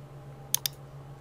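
Two quick, crisp computer keyboard key presses sound close together against a quiet low background hum.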